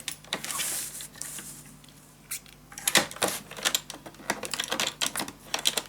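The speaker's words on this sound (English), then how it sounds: "I first go cut this piece right here." Paper being cut for a scrapbook storage tower project, with a series of sharp, close snips and clicks in irregular bursts over a quiet background.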